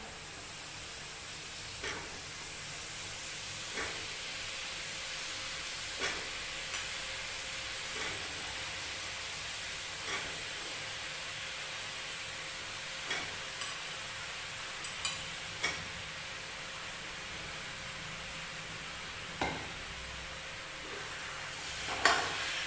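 Potatoes and eggplant fry in spiced oil in a home kitchen, giving a soft, steady sizzle with occasional sharp clicks and taps of stirring scattered throughout.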